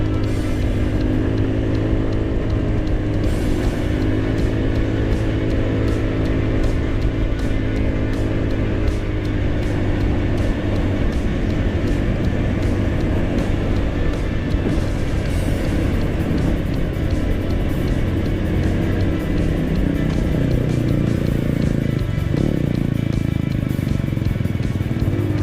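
A GY6-engined tricycle pulling uphill in Teresa, Rizal, its small engine droning steadily under load throughout, loud and close with a continuous strained hum and slight shifts in pitch as it climbs.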